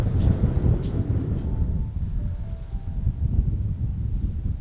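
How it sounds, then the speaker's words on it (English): Wind buffeting across a hilltop on Black Hill in the Lowther Hills, a steady low rumble with gusty swells, loud and close throughout with no voices. "I'm saying breeze, it's more like wind now in this call."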